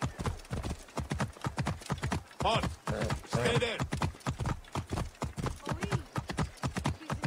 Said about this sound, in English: I definitely feel a lot more comfortable riding horses than camels.